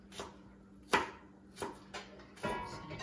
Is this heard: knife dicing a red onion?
yes